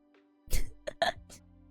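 A single person clears their throat, one rough rasp followed by two shorter gruff bursts, close and fairly loud against near silence.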